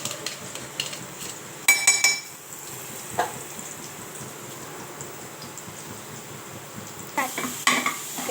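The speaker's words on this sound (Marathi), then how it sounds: "चांगलं मस्त कलसून घ्यायचं तेलामध्ये म्हणजे चांगलं परतून घ्यायचं" Garlic, green chili and cumin sizzle softly in oil in a pan while a utensil stirs and clinks against the metal in a few short bursts.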